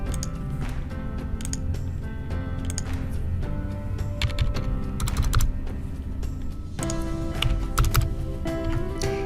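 Rapid typing on a computer keyboard, a steady stream of close clicking keystrokes with brief pauses, over a low background hum.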